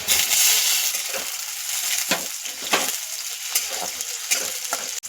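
Tomatoes sizzle and fry with lightly cooked onion in hot oil while cooking egg rice, a steady crackling hiss with occasional stirring scrapes and clinks throughout.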